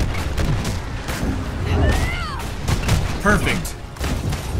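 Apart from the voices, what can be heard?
gunfire in video game Marvel's Avengers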